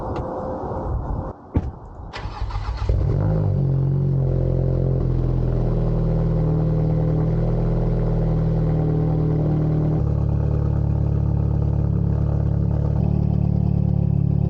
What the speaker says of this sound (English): you guys probably want to hear what a cold start does sound like